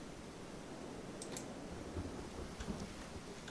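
In the video game Kenshi, rain falls in a steady, faint hiss with a low rumbling undertone of thunder and a few light clicks, no voices present.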